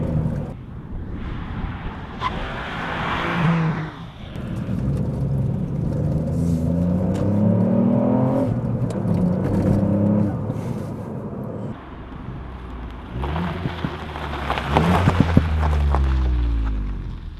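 Ford Fiesta ST engine revving under load through roughly 2,000 to 4,000 RPM, a close, steady rumble rising in pitch with faint turbo whistle, two strong acceleration surges at the start and end.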